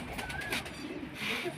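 Pigeons coo softly and repeatedly on a rooftop against a faint background, with a few other bird calls mixed in.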